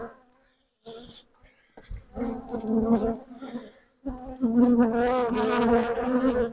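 Honey bees buzz around an open beehive being inspected, with loud, close, wavering hums that swell and fade in bursts as individual bees pass near, with brief gaps of quiet between them.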